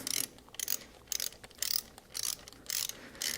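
A torque wrench ratchets as it tightens camshaft cover bolts to 71 inch-pounds on a GM Ecotec 1.4L turbo engine, making a rhythmic series of quiet, close clicking bursts, about six strokes in three seconds.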